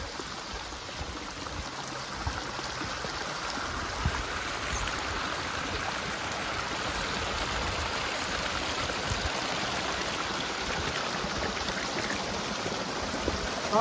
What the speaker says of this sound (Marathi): हा पाण्याचा झुळझुळ आवाज कानाला मंत्रमुग्ध करून टाकतो.